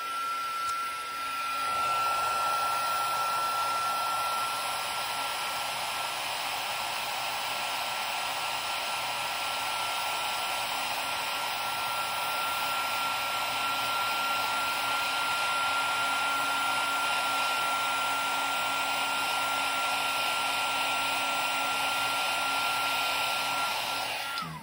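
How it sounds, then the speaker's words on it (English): A heat tool blows steadily to melt white embossing powder on a handmade card, a constant close whooshing hum with a high whine, running without a break for about twenty-five seconds with no voices. "Now, bear with me as I get my heat tool out."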